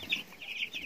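Faint, brief clucking from week-old chickens, a few soft chirpy calls close together in quick succession.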